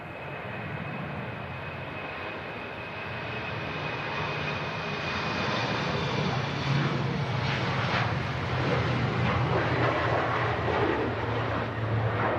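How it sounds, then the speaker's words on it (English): A TAP Express airliner departs for Lisbon from Manchester Airport, its engine roar swelling from moderate to loud over several seconds and holding as a broad steady rumble, with no voices. "That was the TAP Express heading back to Lisbon"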